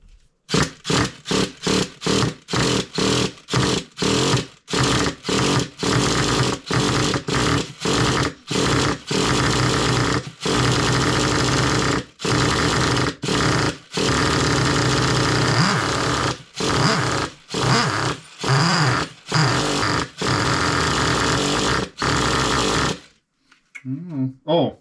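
A 3.3 engine that fires up but won't idle, loud and close, surging in rapid on-off bursts before running more steadily, then cutting out abruptly near the end.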